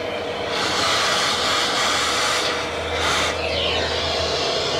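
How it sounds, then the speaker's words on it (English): A shop vacuum roars steadily while sucking debris out of a 2004 Hemi Ram engine during EGR work, with a couple of brief rising surges as trash is picked up. "You can hear that vacuum pick some trash up."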